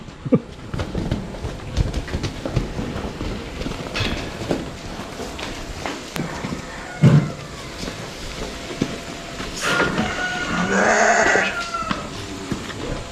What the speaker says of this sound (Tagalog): Yung puro tupa na dito.